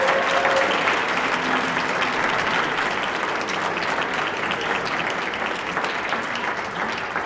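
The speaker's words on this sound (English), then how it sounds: "Let's give them all another round of applause." A large audience at a student gold medallion awards ceremony applauds its nominees and winners, a dense, even roar of many hands clapping that holds steady for several seconds.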